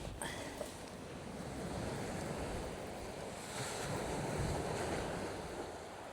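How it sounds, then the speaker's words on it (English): Steady wind blowing about 20 miles an hour buffets the microphone at a beach while sea fishing, with surf rushing continuously underneath, rising and falling slightly. "It's quite windy today, it's blowing about 20 miles an hour"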